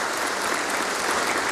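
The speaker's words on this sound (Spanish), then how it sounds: "La despedida fue con aplausos de los presentes" Mourners applauding in farewell at a funeral ceremony, a dense, steady burst of many hands clapping together, loud and close for a moment.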